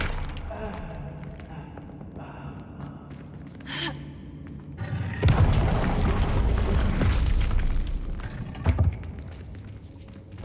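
A Confringo explosive spell in the video game Hogwarts Legacy bursts midway as a loud, broad blast that rumbles on for several seconds. Quieter game sounds and brief voices come before it.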